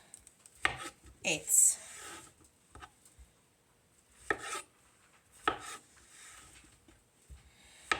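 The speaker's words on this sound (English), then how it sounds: "So we're going to start with some mushrooms, and I am just going to cut these into quarters." Knife chopping mushrooms into quarters on a board, a handful of sharp scattered cuts spaced unevenly with quiet pauses between, close and fairly soft.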